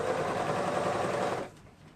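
A sewing machine stitching around a sweater neckband, a steady close motor whir with rapid needle rattle that stops abruptly after about a second and a half.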